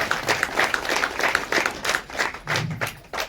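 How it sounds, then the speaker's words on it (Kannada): Audience applause at a film team's launch event, many hands clapping together in a dense, steady patter that swells and holds throughout with no voices on top. "ದಯವಿಟ್ಟು ನನಗೋಸ್ಕರ ಅವ್ರಿಗೊಂದು ಚಪ್ಪಾಳೆ ಕೊಡೋತರ ಅಂತ ಕೇಳ್ಕೊಳ್ತಾ ಇದ್ದೀನಿ"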